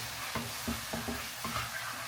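Spoon stirring milk into a white sauce in a pan, several soft scraping strokes with a faint sizzle underneath, close and quiet.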